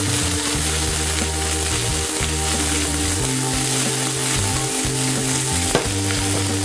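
Julienne vegetables sizzle loudly in garlic oil in a hot skillet, a dense, continuous frying hiss with a spatula stirring and scraping close by, and no talking.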